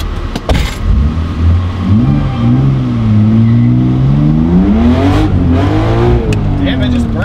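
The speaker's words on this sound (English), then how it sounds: "it just burns the tire off" BMW E30 with a swapped S52 engine accelerating hard from inside the car, the engine note climbing steadily through the revs as one tire spins, loud and continuous, with a brief shift dip and a little background talk.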